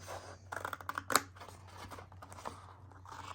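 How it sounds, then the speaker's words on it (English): Scissors snip through a piece of paper being cut out for binding single journal pages, a short burst of crisp close cuts with one sharp snip standing out, over a low steady hum. "I'm just going to cut out the piece"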